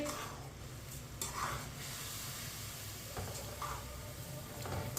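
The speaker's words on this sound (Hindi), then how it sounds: "चीनी डाल के मिक्स कर लेंगे" Sugar stirred into vermicelli in a pan for sweet seviyan makes a soft, low sizzle with occasional scraping strokes of a spoon, fairly quiet and steady throughout.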